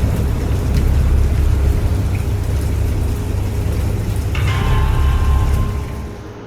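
A thunderstorm pours steady, heavy rain under a deep, continuous rumble of thunder, loud and enveloping, with no voices.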